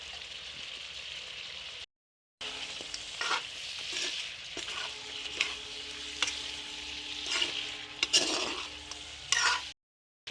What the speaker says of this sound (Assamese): 5 মিনিটমান এইখিনি ফ্ৰাই হ'বলৈ অকণমান ঢাকি থ'ব লাগিব।